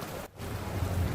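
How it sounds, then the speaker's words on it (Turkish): Rain falling in the video game Empire of Sin, a steady soft hiss of rainfall with a low rumble, briefly dipping before resuming. "Yağmurlu bir gün."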